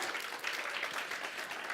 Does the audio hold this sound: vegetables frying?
no